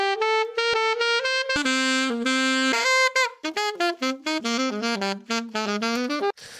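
Saxophone samples from a purchased sample pack play a melodic line, sustained tones first and then a run of short choppy notes, loud and up front with brief gaps between phrases.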